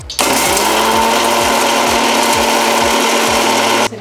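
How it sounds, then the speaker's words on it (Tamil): A kitchen mixer grinder whirring as it grinds dried red chillies, garlic and ginger together, a loud steady motor whine starting abruptly, holding for nearly four seconds and cutting off sharply. "வரமிளகா, பூண்டு, இஞ்சி, தகராமல் எல்லாம் ஒன்றா போட்டு அரைச்சி"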